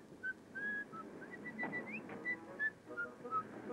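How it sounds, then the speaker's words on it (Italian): A young train driver whistles a lively tune at the start of his workday in a locomotive depot, clear bright notes in a quick melodic run, close and alone over a faint background hum. "fischia anche questo giovane macchinista che inizia lietamente la sua giornata di lavoro intonando un"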